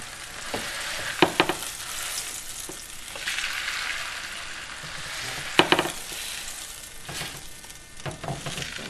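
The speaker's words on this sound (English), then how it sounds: "Now my roast is browning." A sauerbraten beef roast browns in hot oil in a pan, sizzling and spitting loudly and steadily, with occasional sharp crackles and pops close up, alone with no voices.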